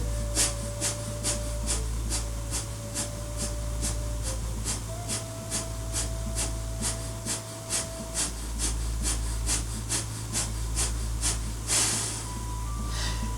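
Steady, rhythmic sniffs and snorts of breath pulse rapidly through the nose during a yoga purification kriya, about two per second, close and continuous, with a faint tone humming underneath.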